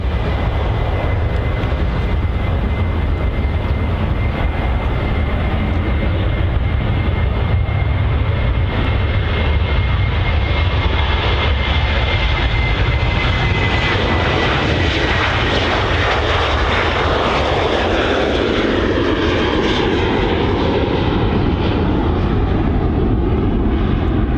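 A TUI Boeing 737 airliner departs Manchester Airport with a loud, continuous jet engine roar that swells and shifts in tone as the aircraft passes, with no talk over it.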